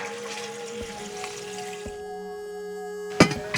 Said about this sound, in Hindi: इसमें गर्म पानी डालना है।